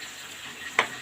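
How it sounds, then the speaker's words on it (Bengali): Spices are stir-fried with already fried potatoes in a pan for a fish-head and potato curry: a soft, steady sizzle with one short, sharp scrape of the spatula near the end. "এখন মশলাগুলো দিয়ে ভালো করে কষিয়ে নেব।"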